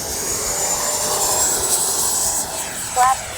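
A Freewing 80mm Avanti S V2 RC jet makes a steady, loud turbine-like whine during takeoff, holding level for a few seconds before a brief louder burst near the end.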